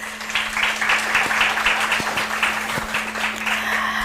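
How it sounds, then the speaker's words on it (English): An audience at an eThekwini Municipality event applauds with steady, dense clapping that holds at an even level throughout, with a low constant hum beneath it. "I think it deserves another round of applause."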